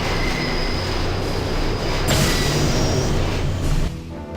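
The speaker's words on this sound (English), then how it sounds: "now we get to ride the smelly subway" Subway train ride in the video game Deus Ex, with a loud, steady rumble of rail cars and wheels on track, a brief squeal midway, and the noise dropping off near the end.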